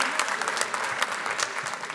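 A live studio crowd at an open mic comedy show in Paris's Studio 104 claps in a brief, lively burst, with scattered loud individual claps standing out.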